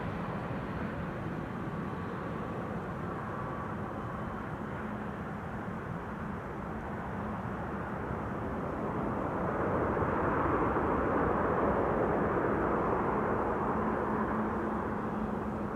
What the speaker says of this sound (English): This is KLM Flight 936 arriving from Glasgow, 737-700